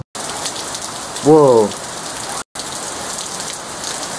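Steady rain falls outdoors as a continuous, even hiss throughout, briefly cut by two short gaps, with a single startled exclamation from a voice partway through.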